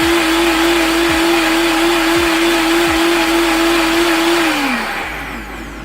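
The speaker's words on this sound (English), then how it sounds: "Okay, so I finished blending the watermelon juice." Blender whirring steadily as it blends a watermelon smoothie made from chunks with the seeds left in, a loud continuous motor drone with periodic knocks before it winds down near the end.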